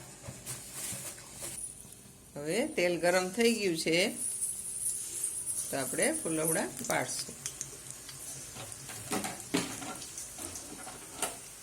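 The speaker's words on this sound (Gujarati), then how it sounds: "બેટરને એકદમ ફીણી લેશું" Methi gota batter with soda and lemon juice is whisked briskly in a bowl, a light, irregular stirring clatter that runs throughout, with someone talking over parts of it.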